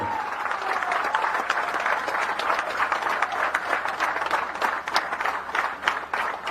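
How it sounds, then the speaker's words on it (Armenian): A crowd at a political rally in Gyumri, Armenia, applauds loudly and steadily, with dense continuous clapping and a few sharper individual claps throughout. "բարձր ծափահարություններ"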